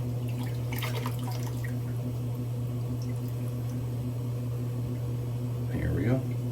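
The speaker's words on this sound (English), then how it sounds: "Let's start working this lather." A shaving brush works up lather from a shave soap, making brief swishy, wet bursts early on and again at the end over a steady low hum.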